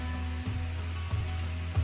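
Heavy rain pours in Konkan amid storm and wind, a continuous broadband hiss of falling water under a steady low hum, even and unbroken with no voices.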